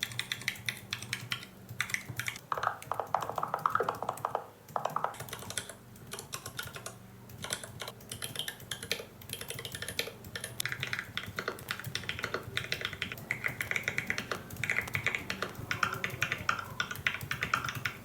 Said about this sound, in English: we have a good number of variations of the keyboard feedback